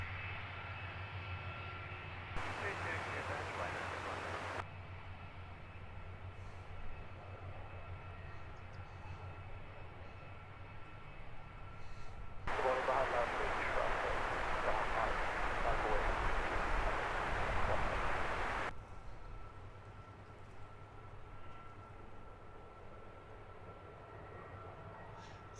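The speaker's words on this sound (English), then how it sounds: "This is Ryanair in from Dublin" A Ryanair Boeing 737 MAX 8 arriving from Dublin at Stansted Airport: a jet roar swells to a loud broad rush for several seconds, then fades back into a steady background hum.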